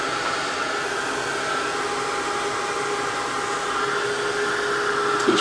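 A heat tool runs steadily, drying slow-drying ink on a handmade card, a continuous close blowing hiss with a faint tonal hum, no speech.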